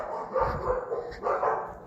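Dogs barking in a short burst of a few yips and barks, moderately close, with no one speaking over them.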